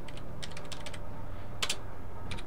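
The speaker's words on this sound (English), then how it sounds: "So if we type inventory" Keys clatter on a computer keyboard in quick irregular bursts of taps with a short pause midway, close and clear over a low steady hum.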